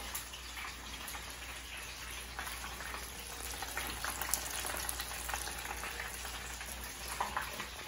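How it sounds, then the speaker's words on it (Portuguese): Steady crackling and bubbling of Japanese karaage fried chicken frying in hot oil, a dense, even sizzle with occasional sharper pops. "Quando você mergulhar o karaguê, ele tem que borbulhar, como ele está fazendo aqui agora"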